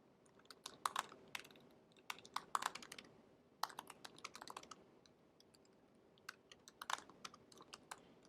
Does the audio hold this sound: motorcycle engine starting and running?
no